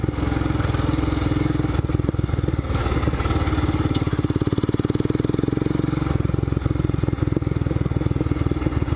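Royal Enfield Scram 411 motorcycle engine pulling steadily on a rocky trail ride, a continuous close thumping single-cylinder rhythm with clatter and small throttle changes.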